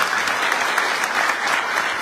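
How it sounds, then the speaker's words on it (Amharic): An audience at a Kembata community fundraising gathering in South Africa, held for the construction of the Halaba stadium, claps in a dense, even burst of applause that fills the whole moment. "ለነሱ ጭብጨባ ያስፈልጋል"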